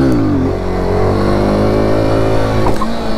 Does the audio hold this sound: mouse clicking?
no